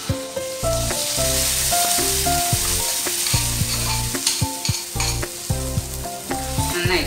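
Ground spice paste sizzles in a hot pan for paneer butter masala, a steady hiss that runs throughout with a few stirring scrapes, all over a prominent melodic music bed.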